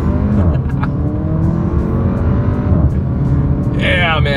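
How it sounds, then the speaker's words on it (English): A 2024 Porsche Macan luxury SUV accelerating hard on a straightaway, its engine droning loud and steady from inside the cabin, with a brief higher whine near the end. "let's see how quickly we can get this one here up to speed"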